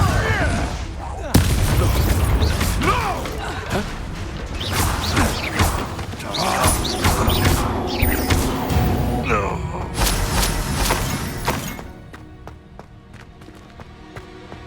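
Confringo blast spells exploding during Hogwarts Legacy combat: loud, dense crashes and booms that pile up continuously over a busy game soundtrack, then cut off abruptly near the end, leaving a quieter tail.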